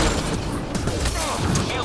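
Enemy gunfire in the video game Mass Effect Andromeda: dense, loud, continuous crackling and booming volleys with heavy thuds, packed tightly together with no pauses, likely with voices mixed underneath.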